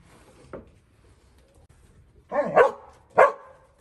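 A dog barks twice in quick succession, a short pause after a faint earlier yelp, fairly close and loud against a quiet background.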